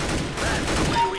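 Gunfire in the video game Counter-Strike, a dense burst of overlapping shots over about a second, loud and close, with faint speech mixed in.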